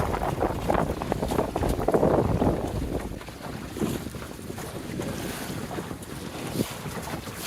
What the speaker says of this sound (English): We're sailing along some old ore docks.